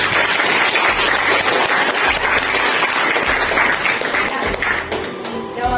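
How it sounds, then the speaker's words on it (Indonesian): A classroom full of students claps together in a loud, sustained burst of applause lasting several seconds, with some voices mixed in and a slight fade toward the end. "Kita beri aplaus untuk Ajana."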